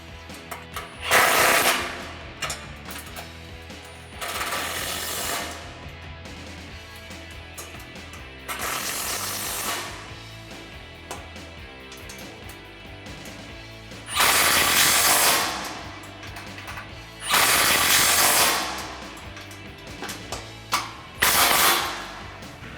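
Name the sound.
ratchet with 13mm socket tightening grille guard bolts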